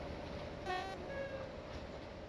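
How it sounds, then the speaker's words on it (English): Wagon brakes on a Class 07 shunting locomotive in the Train Simulator video game give a faint, brief squeal over a low, steady rail rumble. "that's probably the brakes on the wagons sound like that."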